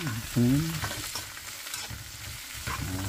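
Shrimp tossed into a hot pan of golden garlic and stir-fried, giving a steady close sizzle with scraping stirs, and a voice briefly talks over it at the start and end.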